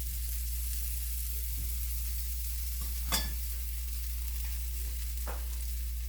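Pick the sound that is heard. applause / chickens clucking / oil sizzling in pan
oil sizzling in pan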